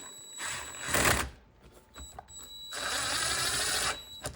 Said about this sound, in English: Put that screw in.